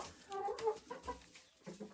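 Backyard laying hens clucking nearby in a short series of uneven calls, with brief overlapping cackles and no talking.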